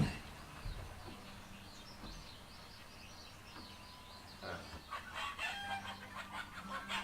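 Chickens in The Hobbit video game cluck and squawk in agitated bursts, scattered calls at first and then a denser flurry of frantic clucking toward the end.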